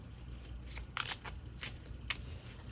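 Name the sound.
shuffling tarot cards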